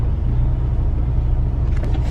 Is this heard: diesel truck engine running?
yes